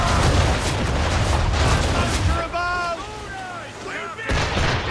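Heavy ship cannon fire in Assassin's Creed III, booming volleys that roll continuously, fade briefly, then return loud and close, with shouted voices in between.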